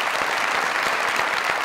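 Steady, dense applause from a studio audience on a Pakistani comedy talk show, loud and continuous throughout with no voices over it.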